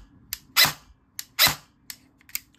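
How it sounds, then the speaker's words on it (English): An airsoft rifle fires on semi-auto: two sharp, loud shots stand out among a few lighter clicks, each shot spaced apart with quiet gaps, heard close up. "But this is how it sounds with semi-auto."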